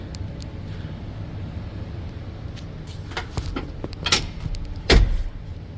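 Second-row seat of a car folding down and then coming back up, heard as soft mechanical shuffling followed by a few sharp clunks and latching thumps, the loudest near the end.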